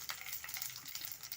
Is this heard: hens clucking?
no